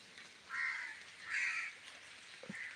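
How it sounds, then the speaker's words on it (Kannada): Crows caw a few times, some calls near and some farther off, against a quiet backdrop under an overcast sky. A faint drip or tap sounds near the end. "ಕಾಗೆಗಳು ಯಾವಾಗಲೂ ಕಾಕ ಅಂತಿರ್ತವೆ"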